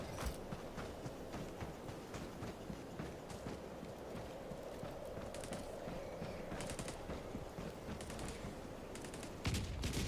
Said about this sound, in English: Man, the recoil on this SMG is horrendous.